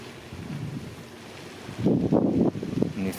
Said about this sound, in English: Of course, it's the wind blowing.